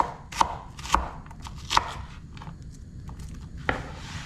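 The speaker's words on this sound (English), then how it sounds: "Next is our purple onion. Cut this up into good sized pieces also." A knife chops a purple onion into good-sized pieces on a cutting board: four sharp, distinct thuds at irregular intervals, close and clear, with faint kitchen rustling between strokes.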